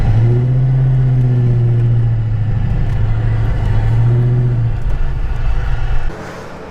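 A Ford Mustang rolls back into a garage, its engine rumbling steadily up close with a gentle rise and fall of revs before cutting off near the end.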